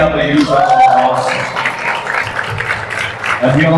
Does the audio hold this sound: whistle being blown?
no